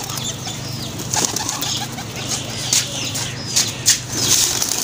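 A pigeon's wings flap in quick, close bursts as it is caught by hand, with soft cooing and other birds in the background.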